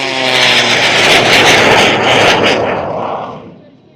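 A modified aircraft with a bigger 450 horsepower Pratt & Whitney R985 radial engine roars loudly and steadily at an air show, then fades away toward the end.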